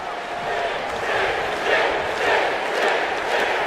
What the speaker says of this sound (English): As this crowd showing their support for the Stinger.